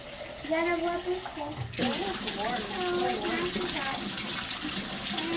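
Water runs and splashes steadily while a dog is bathed, close and moderately loud, with children's and adults' voices talking over it throughout.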